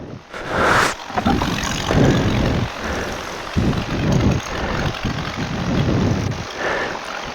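A paramotor engine drones loudly and roughly while powering across a runway, its noise rising and falling in waves with wind rumble and buffeting, and no clear talk.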